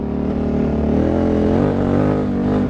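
KTM 950 Adventure Rally, a 2003 Dakar bike with 107 horsepower and an open exhaust, idling and blipping up close: a loud, throbbing engine note with rising harmonics through a short rev, no speech over it.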